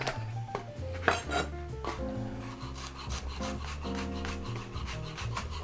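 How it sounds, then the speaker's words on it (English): A knife slicing scallions on a cutting board, quick repeated taps and scraping strokes close up, with background music playing underneath. "we're going to start slicing our scallions"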